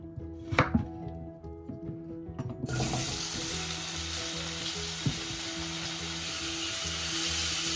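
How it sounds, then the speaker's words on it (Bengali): Potatoes and taro fry in a pan with a loud, steady sizzle that starts abruptly after a few quiet kitchen clatters and knocks. "আলু আর গাটি কচু একসাথে ভালো করে একটু ভাজা ভাজা করে নিচ্ছি"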